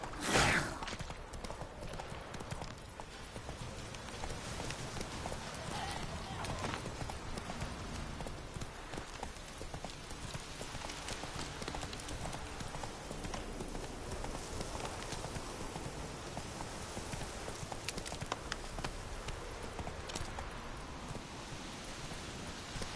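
Hooves of a galloping horse in The Witcher 3 beat a continuous rapid clip-clop over a steady wash of ambient noise, even and moderately loud for the whole stretch.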